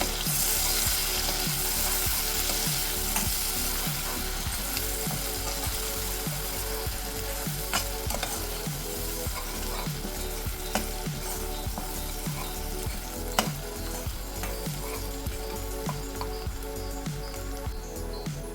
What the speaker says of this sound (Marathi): आता हा कांदा आपण तेलावर परतून घेऊया.